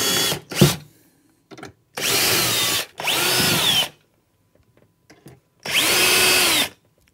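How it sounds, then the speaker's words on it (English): A power drill whirs in three separate bursts of a second or so each, drilling frame fixing brackets on a 600 bridging unit, with short pauses and faint handling noises between them. "what you do is you drill your frame fixing brackets"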